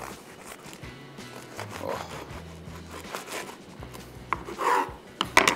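A serrated bread knife saws slowly back and forth through a beef cheeseburger bun with a cheese slice, making soft, rasping strokes that grow louder toward the end.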